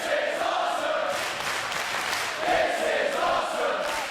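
A wrestling crowd at a 1PW show in Doncaster roars and cheers steadily, a dense, loud wall of voices that swells again partway through, with no commentary over it.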